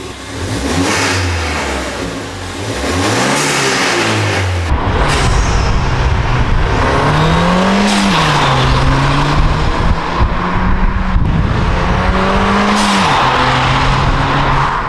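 Ford Fiesta ST Mk7 with stock exhaust, heard from outside as the engine is revved repeatedly, the rising and falling exhaust note loud and close with sharp blips and pops between revs.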